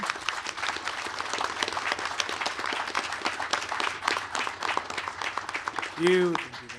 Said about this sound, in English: if we can all give a round of applause to everybody that made today happen